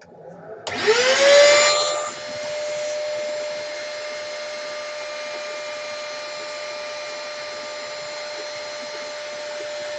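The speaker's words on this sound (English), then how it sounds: "Going to turn the Hoover on, folks. It's going to be noisy" A Hoover vacuum cleaner switches on with a surge and spins up to a steady high whine that holds on, running alone in a small workshop shed.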